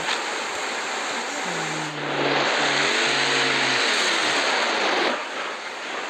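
A car engine rises and roars during a chase, a dense, loud rushing hum with a tonal whine that bends up and down midway before easing back.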